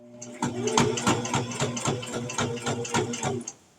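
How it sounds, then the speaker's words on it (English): A sewing machine stitches a fabric coffee cup cozy, a rapid, even mechanical chatter of needle strokes running for a few seconds before stopping, close and clear. "Flip it back down, and sew again."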